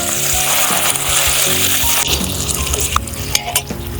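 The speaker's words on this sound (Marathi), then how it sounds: "आणि टमाटा पण छान मऊ होईपर्यंत आपण तेलात परतून घेऊया." Chopped tomato sautés in oil in a pan, giving a strong continuous sizzle punctuated by scraping and metallic clinks from a spatula being stirred against the pan.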